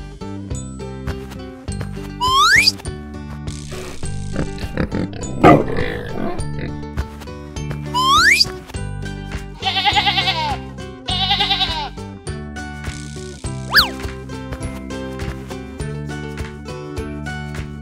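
Cartoon farm animals call out over music: repeated sheep or goat bleats and pig-like grunts, with sliding whistle-like cartoon effects, fairly loud and busy throughout.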